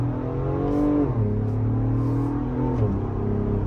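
Ford Bronco Raptor in Baja mode, engine note rising and dropping in steady rev-matched downshifts, a loud continuous drone heard from inside the cabin with no talking.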